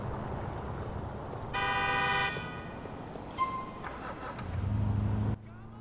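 A spawned car in GTA with the LCPDFR police mod: a steady engine rumble runs throughout, with a bright, sustained horn-like tone in the middle and a low revving swell near the end, no talk.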